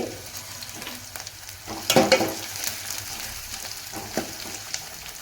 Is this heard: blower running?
no